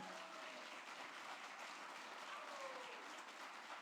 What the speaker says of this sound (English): I want to give a huge round of applause to Brett Wilson for making this happen.